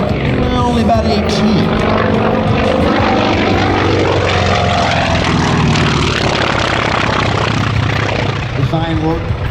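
A Grumman F4F Wildcat warbird flies over an airshow, its propeller engine a loud, continuous droning roar that swells and shifts in pitch as it passes, with an announcer talking over it.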